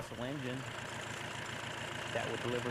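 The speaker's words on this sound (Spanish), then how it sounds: "estamos listos para encender nuestro motor diésel de 45 caballos de fuerza" A 45-horsepower diesel water pump engine starts and settles into a steady mid-pitched chugging idle, close and continuous; a voice talks over it.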